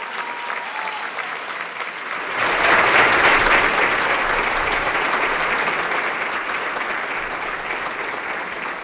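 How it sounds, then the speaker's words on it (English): A crowd at a student recognition ceremony breaks into applause, starting suddenly and swelling into a loud, sustained round that holds steady before easing slightly. "Let's give all of our students another round of applause."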